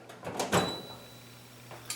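A drawer on a BETA C24SL seven-drawer rolling tool cabinet slides smoothly in and out, giving a few soft rolling and clunking sounds at close range, followed by a faint hum.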